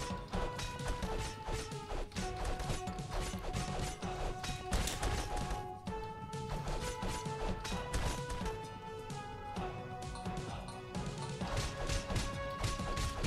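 Loud, steady battering and crashing as a castle door is smashed in a video game, repeated thwacking impacts over dense battle noise and music throughout.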